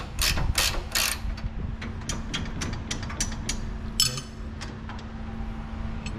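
On a modified race car, a bolt is replaced and tightened: a ratchet wrench clicks in quick rhythmic bursts, with sharp metallic clinks in between, close and clear.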